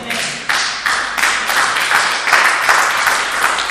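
A church congregation bursts into applause, steady and fairly loud, sustained clapping from many hands filling the room with no talk over it.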